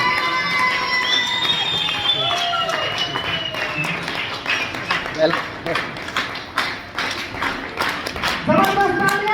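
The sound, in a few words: audience applause welcoming speaker on stage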